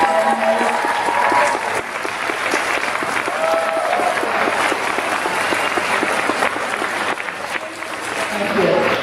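A crowd at a masked-ball book launch party applauds loudly and steadily for several seconds, a dense wash of clapping with voices and cheers mixed in, the clapping briefly easing before swelling again near the end.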